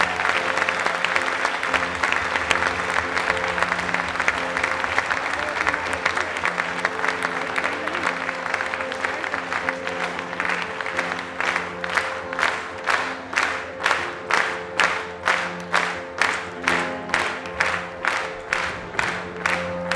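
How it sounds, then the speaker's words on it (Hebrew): A concert crowd applauds and cheers, the clapping soon falling into a steady rhythmic unison beat that keeps going to the end. "תנו להם כפיים, אולי הם יבואו"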